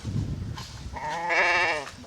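A Kachaikatti animal from Vadipatti near Madurai in Tamil Nadu gives one loud, close, wavering bleat lasting about a second, after some low rustling.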